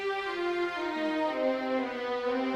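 Orchestral strings, first and second violins with violas in their low register, hold sustained notes that slowly shift downward, joined by English horns and harp in a smooth, steady texture with no voices.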